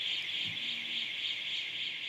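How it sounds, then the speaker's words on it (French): A home security alarm siren sounds continuously at a steady, piercing high pitch, loud and unbroken throughout with no voices. "Donc là, effectivement, on entend bien l'alarme."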